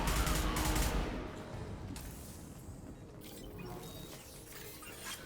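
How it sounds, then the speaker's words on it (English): The Concussive Shot ability fires in Mass Effect 2 amid heavy combat: a loud blast at the start decays into ongoing gunfire and mechanical clatter, with no voices. "Firing concussive shot."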